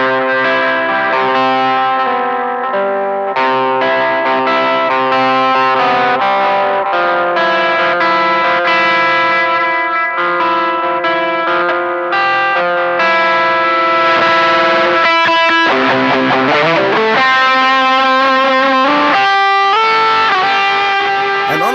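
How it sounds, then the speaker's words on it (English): Distorted electric guitar with its volume knob turned down plays a continuous melodic riff with chorus and echo, steady and moderately loud, the drive slightly softened, no talking. "leave the distortion on but turn the volume knob of the guitar down"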